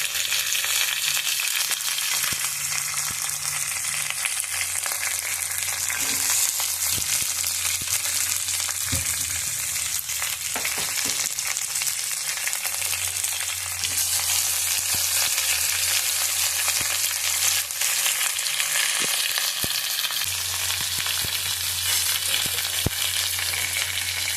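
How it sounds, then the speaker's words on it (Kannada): Masala for egg biryani with fresh tur beans fries steadily in a pan, a loud continuous sizzle with faint stirring scrapes throughout, close up and with no talking. "ಮಸಾಲೆನ ಚೆನ್ನಾಗಿ ಹುರಿತೀವಿ"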